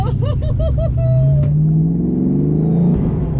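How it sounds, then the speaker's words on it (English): A Ford Fox Body Mustang engine revs hard, its pitch climbing quickly and settling into a loud, steady drone with a strong low rumble. "hopefully not too many RPMs. It goes up so fast"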